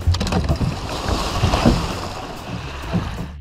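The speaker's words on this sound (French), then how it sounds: "Trois hommes pêchent en bateau à moteur sur une petite rivière en Tanzanie." Motorboat carrying three men fishing on a small river in Tanzania, a loud rumbling engine mixed with water splash and wind buffeting the microphone, with no speech.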